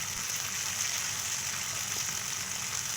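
Taro pieces stir-fried in a pan with ginger paste, chilli paste, cumin and turmeric, giving a steady, close, loud broadband sizzle with no pauses.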